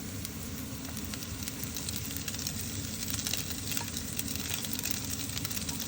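Cleaned taki fish added to a pan of lightly browned onions and green chillies, giving a loud, dense, continuous sizzle that stays even throughout with no voices.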